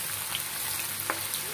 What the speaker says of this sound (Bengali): এই পেঁয়াজটা ব্রাউন কালার হওয়া পর্যন্ত আমরা এটাকে ভাজতে থাকবো, নাড়াচাড়া করে এটাকে আর কি ভেজে নিব।